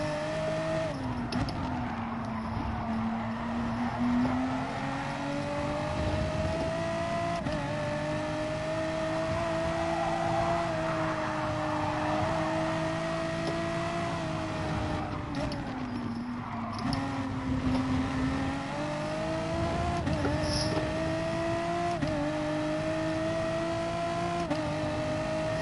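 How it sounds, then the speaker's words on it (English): A Citroen race car in a racing video game, its engine droning steadily at high revs with shifting pitch as it accelerates and eases off through corners, nearly continuous throughout. "P1 driving away in a Citroen."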